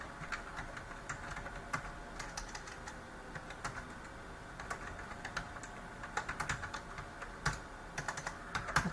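Code being typed on a computer keyboard while building a Java AWT frame, with steady rapid key clicks and occasional sharper keystrokes close by, no talking.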